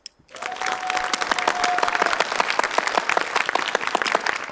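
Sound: applause after a poem recital

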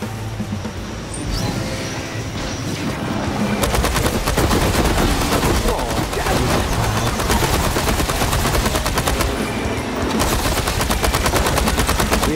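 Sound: gunfire shooting enemies in video game Space Punks

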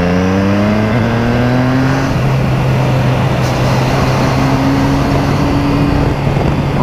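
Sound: motorcycle riding on the road

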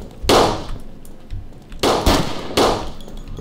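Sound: gunshots from a motel in the video game Fort Zombie

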